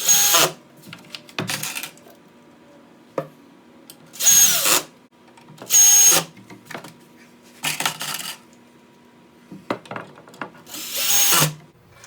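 A power drill drives screws into a prefab kitchen cabinet in a series of short, loud whirring bursts separated by pauses, with faint clinks of screws or parts between them and no talking.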